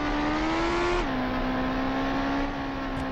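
A Formula 1 car in BeamNG.drive, broken and refusing to gain speed, is held at full throttle: a loud, steady, buzzing engine drone that drops slightly in pitch after about a second and then holds, with no talking.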